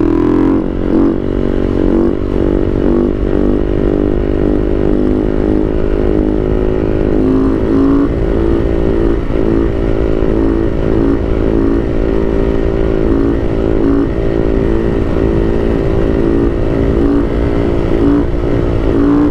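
A 2011 Husaberg FS570 single-cylinder dirt bike engine runs steadily and loud throughout, a close, continuous thumping drone with a dense low rumble and no voices.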